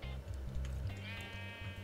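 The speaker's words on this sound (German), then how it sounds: "Warum sind hier so viele Schafe und ein Hühnchen zusammen drin?" Several Minecraft sheep bleat in a quick overlapping cluster, loud and close, alone with no talk, with a chicken also in the pen.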